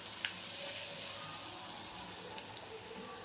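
Ground dal paste hitting hot oil with turmeric in a pan, a steady, even sizzle throughout, close and moderately quiet, with a few faint clinks and no speech.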